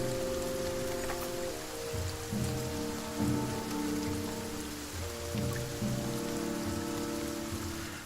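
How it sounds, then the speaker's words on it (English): Steady rain falls in the Banner Saga 2 video game, turning a dirt path to mud, a dense continuous patter over low droning music, with no speech. "The darkening sky lets loose its rain, and soon fat drops of water turn the dirt path into sucking mud, slowing the caravan."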